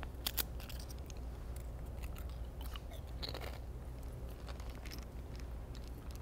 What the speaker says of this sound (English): this is real food, so I'm going to crunch this